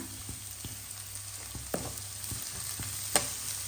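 Chopped beans and capsicum stir-fry in a hot pan for fried rice, giving a steady close sizzle broken by regular scraping strokes of a spatula and a few sharper clacks against the pan.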